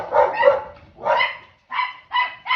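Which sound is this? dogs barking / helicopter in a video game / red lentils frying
dogs barking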